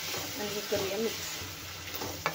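Crushed mango thecha chutney being stirred in a pan with a little turmeric, giving a low, steady scraping and sizzling hum that runs on without pause.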